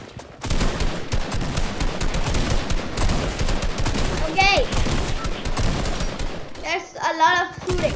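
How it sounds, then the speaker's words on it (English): Rapid gunfire rattles almost nonstop in a Fortnite match, dense bursts of shots up close, with a voice briefly calling out partway through and again near the end. "A lot of shooting."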